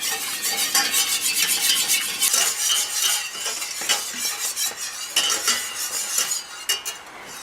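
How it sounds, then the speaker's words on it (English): Brisk whisking of a sauce in a pan, with rapid rhythmic metal clicking and scraping over a faint sizzle, close and continuous for several seconds. "just stir briskly with the whisk to get any lumps out"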